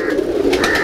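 Breeder pigeons of red, Firozpuri, Chapde and Golden types give a brief, close, soft cooing call, a single short burst with no voices over it.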